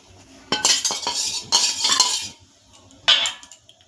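A spoon adds turmeric into a metal cooking pot of whole boiled food, clinking and scraping against the metal in three short bursts with quiet pauses between.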